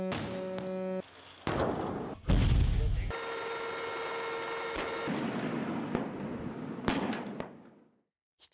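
A military artillery or missile launch fires with a sudden, loud, low roar in the middle of a choppy sequence of abrupt, cut-together sounds and voices, then the sound trails off.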